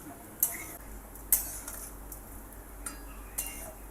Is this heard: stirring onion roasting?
yes